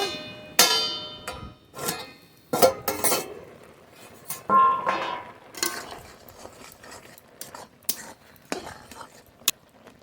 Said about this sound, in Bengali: ঢাকনা তুলে নেব